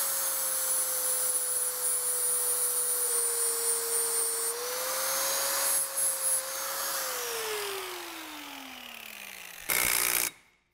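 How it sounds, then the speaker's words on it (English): A flap disc grinds down metal on a Mini's brake area with a steady high whine that holds, then winds down in pitch, ending in a brief burst of harsh noise. "we're just gonna take a little bit of a flapper disc and grind this down just a bit, just to clear it"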